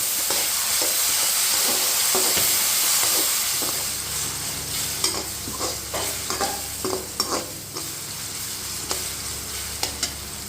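Onions, garlic, green chilies and curry leaves fry in a hot pan with a loud, steady sizzle, broken by repeated stirring scrapes and clacks.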